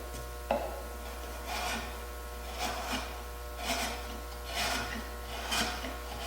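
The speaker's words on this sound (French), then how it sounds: "L'avantage d'un ciseau à bois, c'est qu'on a une coupe parfaitement lisse" A wood chisel pares a straight finger joint with five or six soft scraping strokes about a second apart, over a steady low electrical hum.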